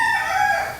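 A rooster crows nearby, one drawn-out call with a bright, wavering pitch that fades at the end, apparently heard from inside a house.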